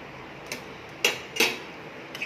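Khichuri with ghee in a pot is stirred with a utensil, giving a few separate scraping clinks against the pot, two of them louder, over quiet background with no talking.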